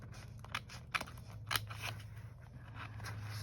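Scissors snip through paper being trimmed for a handmade travel journal cover, with a series of short crisp cuts at an irregular pace over a low steady hum.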